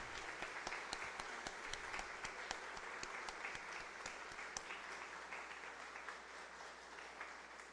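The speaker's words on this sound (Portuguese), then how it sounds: "palmas para José Levado e Marili, com 60 anos" Applause from an audience after an evening talk, steady dense clapping throughout, moderately distant and even in level, easing slightly toward the end, with no speech over it.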